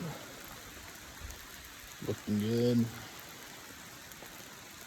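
Rain falls steadily at a campsite as a soft continuous hiss, with a brief spoken phrase partway through.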